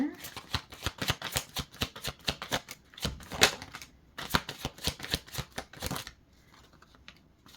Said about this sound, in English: Oh, these cards are just flying out.